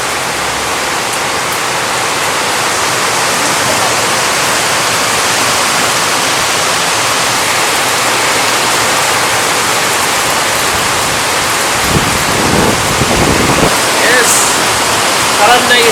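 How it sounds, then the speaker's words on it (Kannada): A heavy, sudden rainstorm pours down as a loud, dense, unbroken roar of falling water, close and steady throughout. "ಜೋರು ಮಳೆ, ಫುಲ್ ಚಂಡಿ."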